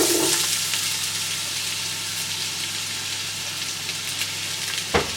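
Onions, with ginger and garlic paste, fry in hot oil over a high flame, giving a steady loud sizzle throughout and a brief clatter at the end.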